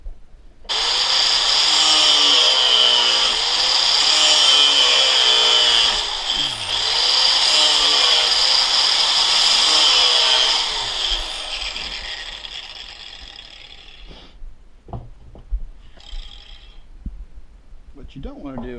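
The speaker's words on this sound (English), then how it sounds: "I'll bet I'm not great with the angle grinder, but I can trim that little piece off right there." An angle grinder trims a steel knife blank, giving a loud, sustained high whine for about ten seconds that winds down, followed by scattered clanks and handling noise.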